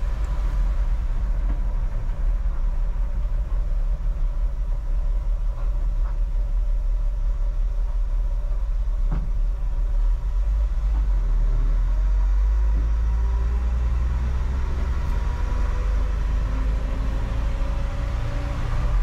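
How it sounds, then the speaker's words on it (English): A 1964 Ford F100 pickup drives along with a steady, loud low engine and road rumble, while the bed sits on rotted mounts and gives an occasional faint clunk as it shifts. "So you do hear the bed shift a little bit from time to time."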